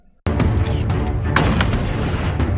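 Heavy gunfire in a Halo video game, one sudden loud blast followed by a dense, continuous roar of shots and booms, with a second sharper crack partway through.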